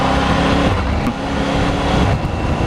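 A Triumph Tiger 900 Rally Pro motorcycle with a quick shifter accelerates through the gears: loud, close engine drone mixed with heavy wind rush, with brief dips in pitch at the shifts.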